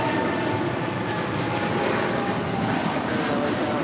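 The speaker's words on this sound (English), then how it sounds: "This is China Airlines Cargo 5224 departing to Miami, Florida on a 777 freighter." A China Airlines Cargo Boeing 777 freighter departs LAX, its jet engines producing a loud, continuous, sustained roar close by, without speech.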